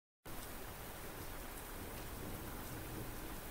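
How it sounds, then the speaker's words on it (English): Steady heavy rain in the Lady in Mystery video game, a dense, constant hiss of falling water that starts abruptly and continues evenly without a break. "Ooh, rain."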